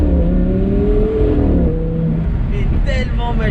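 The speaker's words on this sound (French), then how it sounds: "530 chevaux, V10 atmosphérique" An Audi R8 Spyder's 530-horsepower naturally aspirated V10 revs hard and climbs in pitch, loud and close, with rising harmonic whine, while someone speaks over it.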